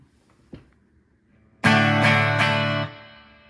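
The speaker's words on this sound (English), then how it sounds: "Turn on the reverb." An electric guitar played through an amp with reverb switched on: a faint pluck, then a loud strummed chord struck a few times that rings on and decays into a lingering reverberant tail.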